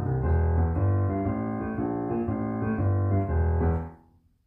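A piano plays a left-hand blues bass pattern over C, a repeating, rhythmic low figure played alone and clearly, with the last notes fading out at the end.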